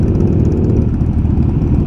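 A motorcycle engine rumbles close by on a roadside stop, a loud, steady, low drone with no break and no voices over it.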